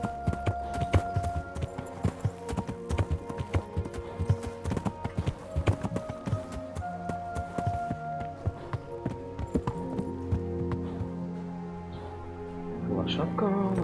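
Horse hooves clip-clop in a steady walking rhythm in the medieval video game Kingdom Come: Deliverance, close and distinct, then slow and fade as someone speaks near the end.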